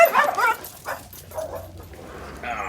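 Pet dogs being let outdoors give a short burst of yips and whimpering barks, close and excited, fading into quieter background noise over a few seconds.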